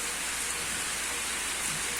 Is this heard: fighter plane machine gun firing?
no